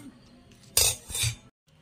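A spoon stirs a fried tempering into a jaggery ginger pickle, giving two short bursts of clinking metal against the pot before falling quiet, with no talking.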